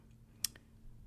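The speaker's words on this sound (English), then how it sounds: "Now I press a key." A single sharp key press on a computer keyboard, one crisp click followed by a fainter tick, over a quiet low hum.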